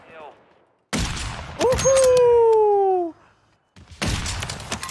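Sniper rifle fire in a battle-royale video game: a sharp crack, then another shot with a long ringing whine that fades out, and a further burst of shots after a pause, with a voice talking faintly beforehand.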